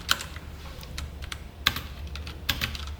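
Keys clatter on a computer keyboard in short, irregular bursts of typing during a programming lesson, with a few sharper, louder keystrokes standing out. No one speaks.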